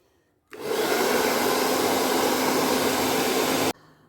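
A hair dryer blows wet acrylic pour paint colours together, switching on abruptly and running as a steady, loud whooshing roar for about three seconds before cutting off.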